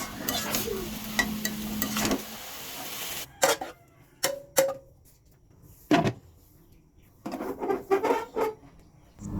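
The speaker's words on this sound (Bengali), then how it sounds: "এখন আমি ভালো করে নেড়ে চেড়ে কষিয়ে নেব" Curry with green chilies sizzles in a pan while a utensil repeatedly scrapes and stirs it, in close, irregular strokes with steady frying underneath.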